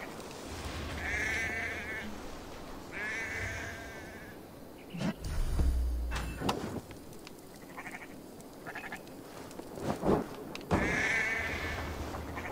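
Sheep bleating in Assassin's Creed Valhalla, several nasal bleats at moderate distance in quick succession, with game ambience and short thuds around them and no talk over them.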